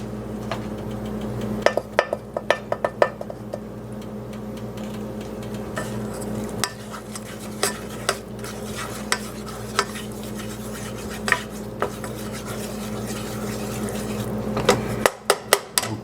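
Flour being stirred into hot oil in a pot for potato soup, a spoon scraping and tapping against the pot in irregular clicks over a low steady background hum.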